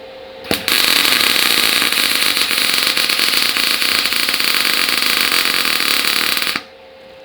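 Close MIG welding arc running a circular swirl spot weld joining two metal plates: a steady loud crackling buzz lasting about six seconds, starting and stopping abruptly, with no voices.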